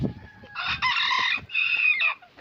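Chickens and a rooster at feeding time, with loud, close clucking and squawking calls in a few short bursts.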